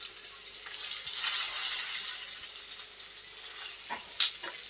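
Chopped onion, potatoes and tomatoes fry over a high flame for a Khandeshi leftover-chapati bhaji, a steady close sizzle with occasional scrapes and a sharp clink of the spoon near the end.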